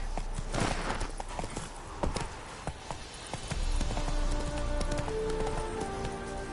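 Horse hooves clip-clop steadily on ground in The Witcher 3 video game, a fairly close, continuous rhythm of hoof strikes mixed with rain-like background patter and faint tonal game sounds.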